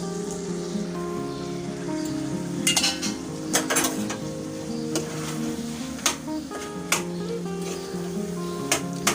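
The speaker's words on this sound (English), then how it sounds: "And stir it steadily." A spoon stirs chicken keema with green peas in a pan: a low steady sizzle runs beneath repeated sharp metal scrapes and clinks against the pan, close by, with no talking.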